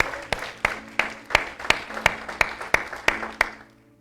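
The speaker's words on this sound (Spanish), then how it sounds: "Le dale un aplauso al Señor" Rhythmic, evenly spaced claps ring out in a church worship service, about eleven sharp beats in steady time, reverberant and moderately loud, fading off at the end without any voice.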